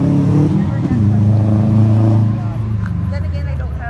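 An Audi's engine revs loudly nearby at a Friday night car meet, a deep throaty roar that holds steady and then eases off, with crowd chatter underneath.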